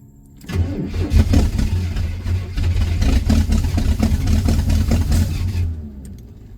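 A rebuilt Corvette engine cranks and fires up on its first start, catching after a brief crank and settling into a loud, steady, rumbling idle with slight revving for several seconds before cutting off, recorded up close.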